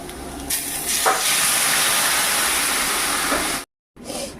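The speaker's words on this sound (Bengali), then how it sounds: "এদিকে আমার চায়ের জল ফুটে যাচ্ছে" A pot of water for tea comes to the boil with a loud, steady hissing roar, held unbroken for several seconds before a brief cut of silence and a return of the hiss.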